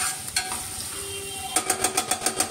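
Onions and ginger garlic paste frying in a pan under a steady sizzle, with a run of rhythmic stirring scrapes in the second half.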